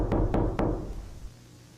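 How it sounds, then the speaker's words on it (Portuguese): Three heavy knocks on a wooden door by the wolf in a three little pigs analog horror tale, evenly spaced, loud and booming, with the reverberation dying away afterward. "o lobo bate na porta"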